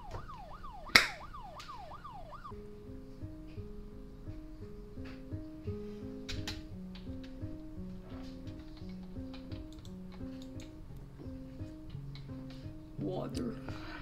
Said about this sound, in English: but there are police sirens right now.